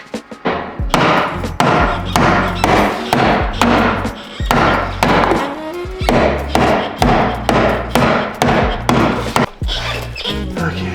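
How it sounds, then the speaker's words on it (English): Steady hammer blows strike a DIY rock slider being fitted to an old junker Jeep, loud and close, landing in a repeated rhythm of heavy thuds over about eleven seconds. "Swinging with the hammer."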